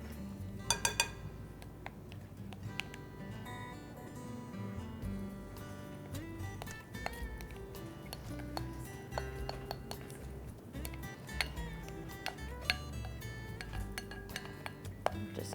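Creamy shell pasta salad being mixed in a bowl, with repeated clinks and knocks of a utensil against the dish over soft, squishy stirring.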